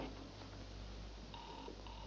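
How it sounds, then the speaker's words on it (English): Telephone line tones from a 1952 film play faintly over a low, humming, noisy connection, with a steady tone and short beeps toward the end. "They're ringing now."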